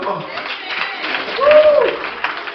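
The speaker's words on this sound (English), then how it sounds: "Somebody ought to clap your hands for the Lord." Church congregation claps and cheers together, a loose, continuous patter under louder voices and shouts, with one voice rising in a whoop midway.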